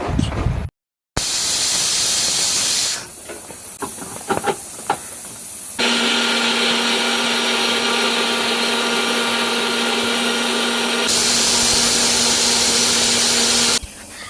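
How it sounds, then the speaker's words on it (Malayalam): An electric mixer grinder runs with a steady loud whir while finely grinding grated coconut alone, starting after a brief pause, with a few clatters and a change in pitch partway through. "ഞാൻ തേങ്ങയ്ക്ക് വേറെ ഒന്നും ചേർക്കാതെ അത് മാത്രമായിട്ട് ഫൈനായിട്ട് ഇങ്ങോട്ട് അരച്ചെടുക്കലാണ്"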